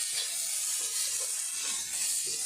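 An onion sizzles and hisses steadily in a hot pan, a continuous bright frying hiss at moderate level with faint soft crackles, no voices.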